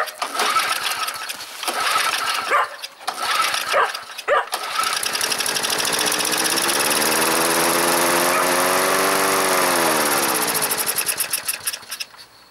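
A small engine sputters through a few failed pulls, then catches and runs steadily, its pitch wavering up and down before it throttles back and fades near the end.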